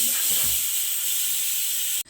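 A pressure cooker boiling eggs on a kitchen stove lets out a steady, loud hiss of escaping steam that runs continuously before stopping abruptly.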